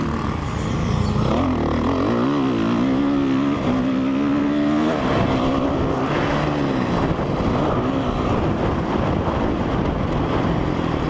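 A 2004 Honda CRF 450 dirt bike engine roars steadily nearby, its pitch rising and falling, with a busy mechanical rattling clatter running underneath.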